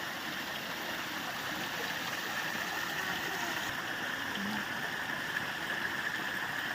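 Water of a mountain stream runs down from the hills near a Telangana village, making an even, continuous rush and gurgle at close range with no talk over it.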